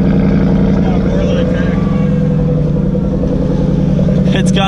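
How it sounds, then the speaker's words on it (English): A wrecked Ford Mustang at an auction, fitted with a Borla exhaust system and hidden nitrous, idles with a loud, deep, steady rumble that fills the whole stretch, and voices are heard over it. "It's got a Borla exhaust system on it."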